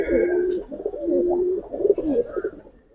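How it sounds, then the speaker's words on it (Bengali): Pigeons of colouring and Giribaz breeds coo in repeated low, throaty rolls close by, several birds overlapping steadily throughout with a few brief higher chirps. "আজকের কবুতরগুলো ডাকছে অনেক সুন্দর"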